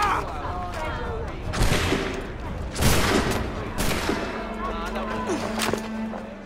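In Assassin's Creed III, soldiers at the Boston Massacre fire a musket volley, heard as several loud, overlapping cracks spread across a few seconds amid shouting and crowd noise.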